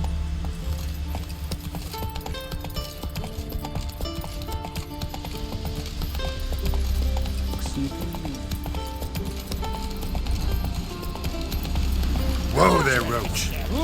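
Hoofbeats of the horse Roach in The Witcher 3 video game, a steady clip-clop under game music and a voice speaking, with a brief whinny-like burst near the end.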